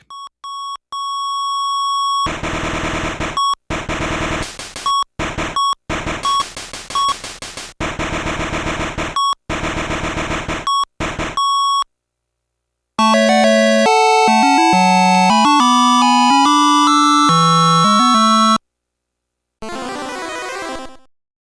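Harsh electronic beeps and buzzy bursts from the shooter game 1942 on the Game Boy Color stutter in rapid choppy fragments, then a chiptune melody and a short jingle follow.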